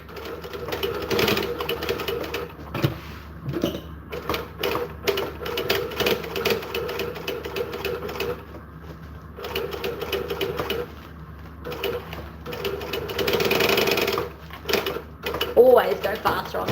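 A sewing machine runs binding onto vinyl bag handles with some back stitching, in bursts of rapid mechanical stitching broken by short pauses, with a voice talking over and between the runs.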